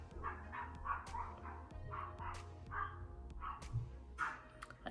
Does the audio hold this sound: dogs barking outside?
yes